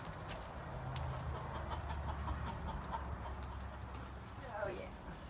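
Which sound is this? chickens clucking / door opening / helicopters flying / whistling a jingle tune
chickens clucking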